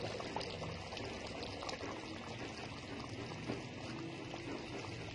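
Lahori chole, chickpeas in gravy, get mixed in a cooking pot, a steady wet bubbling and sloshing of thick liquid close up, continuous and without speech.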